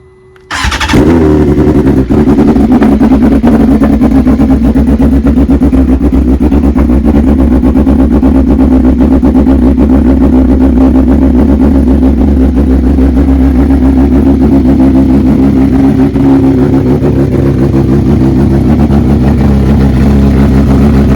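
A superbike engine, either a BMW S1000RR or a Ducati Panigale V4R, cold-starts and then settles into a loud, steady idle that holds for about twenty seconds, close up with no talking.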